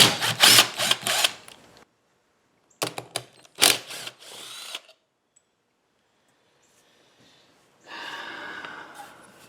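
Ratchet or wrench work on 3/8 bolts of a Toro LX500 lawn tractor, with loud bursts of tool noise, several short clicking turns, a long quiet gap, then a steadier rasp near the end.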